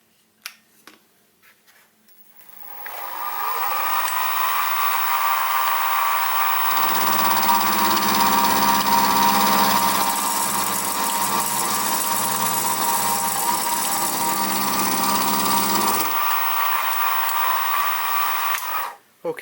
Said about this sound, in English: the first thing I'm going to do is clean up the faces on this brass bearing